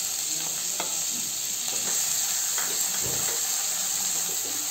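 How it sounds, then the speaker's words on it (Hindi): Chopped onion fries in a pan for bottle gourd chana dal, a close, continuous hiss with occasional spoon scrapes, plus a thin steady high whine in the background. "ये देखिए हमारा प्याज भून रहा है।"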